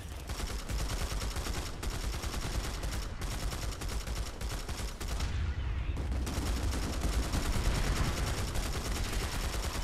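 Dense automatic gunfire in Planetside 2, rapid overlapping bursts from several weapons firing close and loud almost without pause, with a short lull partway through before the shooting picks up again.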